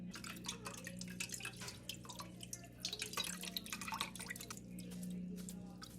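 Homemade makgeolli is strained through a metal strainer, with close, steady dripping and trickling of liquid mixed with soft sloshing.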